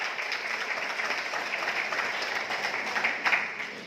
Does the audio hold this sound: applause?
yes